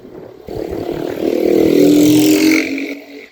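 A loud motorcycle engine and exhaust swell nearby as the bike passes on a street, rising to a peak and then trailing off over a few seconds.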